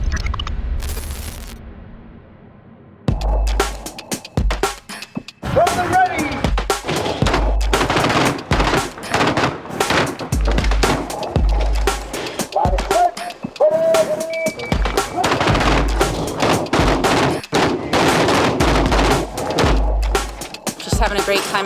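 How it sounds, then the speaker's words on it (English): Outdoor gunfire from several guns including a shotgun, a long run of loud, close sharp bangs in irregular bursts and rapid strings after a short quieter lead-in, with voices faintly mixed in. "Having a great time out shooting, finally."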